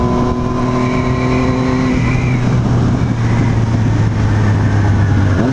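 A motorcycle engine drones loudly and steadily up close while riding, its pitch holding then shifting slightly, with wind noise underneath.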